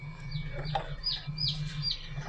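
Newly hatched chicks peep faintly in quick high chirps inside a hatching cabinet, over a steady low machine hum.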